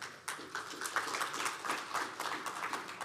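An audience at a school leadership project dissemination event applauds, a brisk patter of many hands clapping steadily for about three seconds, moderately distant and fairly soft.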